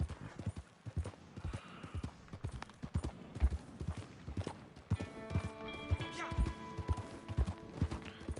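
Horse hooves clip-clop steadily in Red Dead Online, a quick, even gallop of close, loud hoofbeats mixed with other game sounds and occasional voices, with a tonal musical layer joining in partway through.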